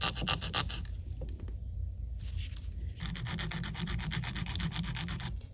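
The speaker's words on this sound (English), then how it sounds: "take your file and go up and down, and that'll help give you a straighter" A nail file rubs up and down along the edge of an acrylic nail, producing close, steady rasping strokes in a quick rhythm with a brief pause partway through.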